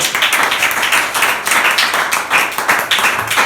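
A crowd claps steadily for a few seconds, a dense burst of applause with no talking.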